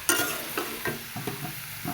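Mixed vegetables and fried lentil dumplings sauté in a pan with a little water, stirred in soft repeated scrapes over a gentle sizzle.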